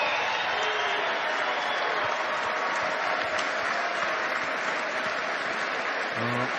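Dense, steady crowd applause fills the arena after the Taylor vs Vazquez boxing fight, a continuous roar of clapping that holds at even loudness throughout with no clear voices standing out.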